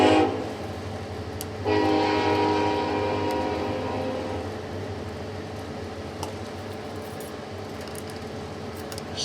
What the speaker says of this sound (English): Hey, there's the train.